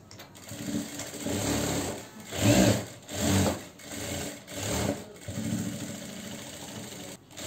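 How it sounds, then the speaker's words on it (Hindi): A sewing machine stitches a gown in a string of short, close runs, its steady whirring rattle starting and stopping every second or so, with brief pauses between. "एक सिलाई और लगाऊंगी।"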